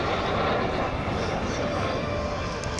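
Aircraft performing at an air show make a steady, broad engine roar that fills the scene continuously for a few seconds, fairly loud and distant-sounding.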